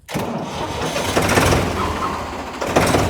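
A Ford 3600 tractor engine cranks and catches, then runs with a loud, rough diesel rumble close by, without any voices.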